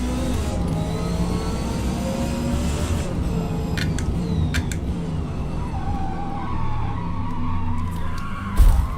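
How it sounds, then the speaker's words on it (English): In the Forza Motorsport video game, a race car's engine note rises and falls as the throttle is patted coming out of a corner, with a steady engine drone, tyre noise and a few sharp clicks near the end. "I heard him kind of patting the throttle out of the corner."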